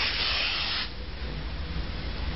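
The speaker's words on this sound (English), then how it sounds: "shake the canister and spray" A drug detection test canister sprays onto a surface in a short hissing burst lasting under a second, followed by quieter rubbing and faint residual noise.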